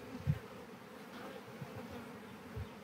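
Honey bees buzz faintly and steadily as they are shaken into a hive box for queen rearing, with a few soft thumps under the hum.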